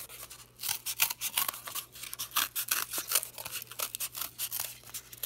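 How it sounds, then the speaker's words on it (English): Scissors cutting through cardboard while making a puppet: a quick series of crisp snips and scraping crunches in an irregular rhythm, close and fairly quiet, with no talking. "Sometimes cardboard can be difficult to cut through"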